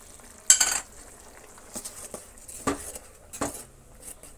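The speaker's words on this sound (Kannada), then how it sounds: "ಅದರ ಜೊತೆಗೆ ನಾವು ಮಿಕ್ಸ್ ಮಾಡಿಕೊಂಡಂತಹ ಮಸಾಲೆನೆಲ್ಲ ಸೇರಿಸೋಣ ಸ್ವಲ್ಪ ಅರಿಶಿನ ಪುಡಿ ಕೂಡ ಸೇರಿಸ್ತಾ ಇದ್ದೀನಿ" Spice mix and turmeric go into a pan of frying vegetable kurma, giving brief sizzles and a few scraping stirs of a spoon against the pot, intermittent and close with quiet gaps between.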